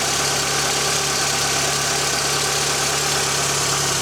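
Engine of a Mk2 Volkswagen Golf idling on choke, a steady, even mechanical hum with a constant low drone and slight vibration, close and uninterrupted.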